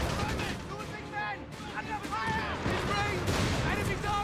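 Gunfire rattles through a Company of Heroes 3 battle between Wehrmacht and US Forces, with Greyhound armoured car guns and heavy firepower, dense and continuous under a commentator's voice.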